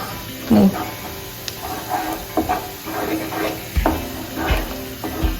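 An egg and Maggi masala mixture is stirred in a frying pan, with a spoon scraping in repeated short strokes over a soft sizzle.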